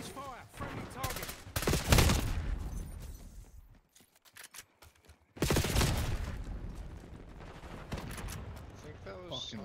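Gunfire and explosive bursts in a Call of Duty match, including a rocket launcher, come in two loud dense stretches separated by a brief lull, with players' voices talking over the action.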